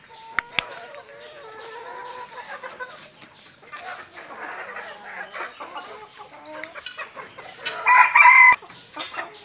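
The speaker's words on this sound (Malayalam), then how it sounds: "ഞങ്ങൾ കരിങ്കോഴികളുടെയും നാടൻ കോഴികളെയും ഇനി ഫാൻസി കോഴികളെയും ഞങ്ങൾ പറയാൻ പോകുന്നത്" Chickens of black Kadaknath-type, native country and fancy breeds cluck and cackle in a close, busy chorus, with a loud rooster crow rising near the end.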